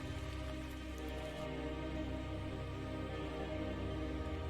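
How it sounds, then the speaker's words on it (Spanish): Heavy rain in a PC video game trailer, a dense steady downpour hiss that stays loud and constant throughout with no voices. "Llueve mucho."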